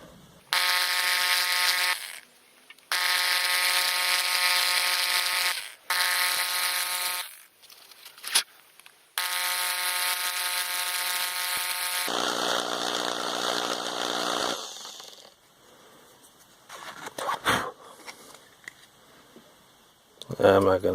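A drill bores 1/8-inch holes in a patternmaking piece for a bronze pipe-hawk, giving several loud, steady whining bursts of about two seconds each with short pauses, then a lower-pitched run before quieter handling noises.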